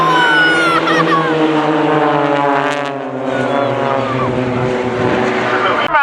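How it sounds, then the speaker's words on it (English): An Extra 300 aerobatic aircraft performing a rolling display at RNAS Culdrose air day, its propeller engine producing a loud, continuous droning tone that shifts gradually in pitch as it manoeuvres. "we fly an aircraft called the Extra 300"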